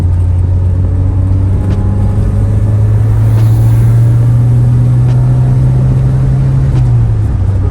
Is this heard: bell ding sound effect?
no